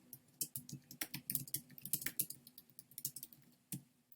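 Rapid, uneven clatter of computer keyboard keys as a comment is typed, close and alone, with irregular bursts of clicks and brief pauses.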